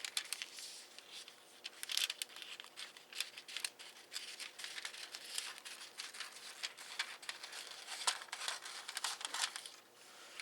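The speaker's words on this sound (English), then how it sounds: "I'm just going to cut it big enough to cover" Scissors cut through a thin plastic transparency sheet for card foiling, giving a run of crisp, quiet snips and rustling crinkles at an uneven pace, close by and with no talking.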